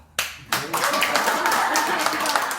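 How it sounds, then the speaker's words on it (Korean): Audience at a seminar breaks into clapping: a couple of sharp claps, then a brief gap, then a full sustained round of hands from a room of people, close and fairly loud. "괜찮은 박수 한번 주십시오"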